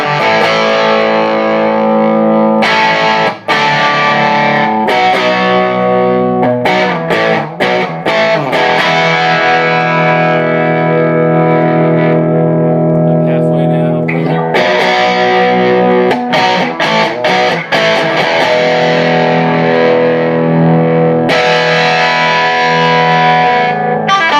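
An electric guitar plays chords through a gritty Klon-style overdrive pedal, the distorted tone ringing out continuously with brief gaps between strums.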